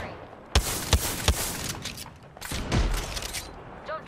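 Weapon fire in the Apex Legends battle royale game: three sharp, evenly spaced shots ring out, a pause, then a heavier burst of fire, with faint game sounds between.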